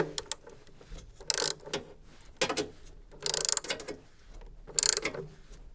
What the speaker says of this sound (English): Now tighten the retaining nut using your 10mm socket set, ensuring that this is fully tightened to secure the element in place.